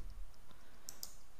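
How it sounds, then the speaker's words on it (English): A few light, sharp keystrokes on a computer keyboard tap out close by and faintly, scattered over a quiet background with no voice. "I'm going to type"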